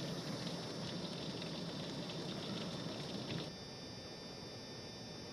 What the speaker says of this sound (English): You can see the water rooster tailing around the base of our mailbox.